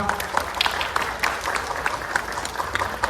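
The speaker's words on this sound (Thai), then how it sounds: "ขอเสียงปรบมือด้วยครับ" Audience at the 10th Uthai Thani Thai buffalo festival claps in a loose, moderately distant patter, with individual claps standing out above the steady applause.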